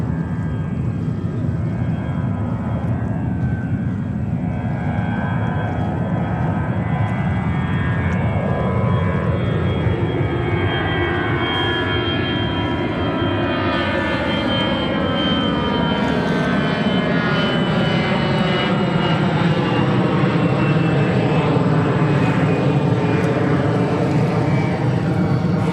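Jet airliners roar through takeoffs and landings at New York's JFK Airport, a loud, continuous engine rumble with whining tones that sweep in pitch as planes pass close by, with no voices.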